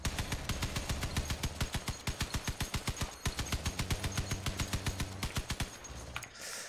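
Rapid-fire guns rattle continuously in the vehicle combat game Crossout, a dense, evenly spaced burst of shots lasting several seconds before stopping, played at moderate volume with no talk.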